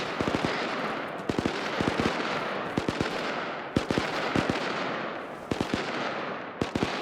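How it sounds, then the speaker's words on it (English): Rapid bursts of autocannon fire in the ArmA 3 military game, loud sharp rounds in clusters of two to four shots repeating every second or so over a steady roar of distant battle noise. "Got another autocannon somewhere off to the north"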